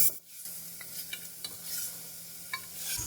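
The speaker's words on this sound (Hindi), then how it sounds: "मसाले डालने के बाद हमने इसको 5 मिनट भून लिया है।" Peshawari namkeen gosht, meat fried with cumin and white pepper, sizzling steadily in a pan while it is stirred, with scattered clinks and scrapes of the spoon over the hiss, close and without voices.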